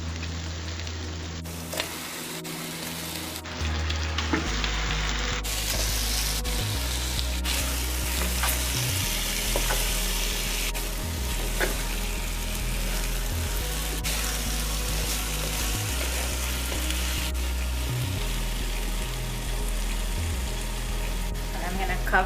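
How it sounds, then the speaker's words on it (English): Fish frying in masala with curry leaves in a hot pan, a steady loud sizzle running throughout with occasional stirring scrapes and clatters. "Now I'm going to add the fish."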